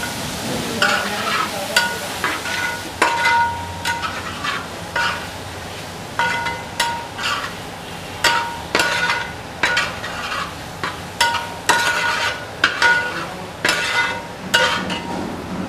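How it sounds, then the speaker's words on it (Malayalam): Sliced onions with salt sizzle in a pan while a spatula stirs them in regular metallic strokes, sharp clinks repeating every second or so over a steady frying hiss. "നന്നായിട്ടൊന്ന് വഴറ്റാൻ പോവാണ്"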